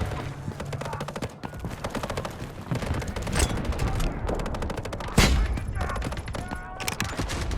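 AKS-74u rifle gunfire in the Delta Force video game: rapid automatic bursts, loud and close, with short pauses between volleys and a heavy boom midway, under faint game voices.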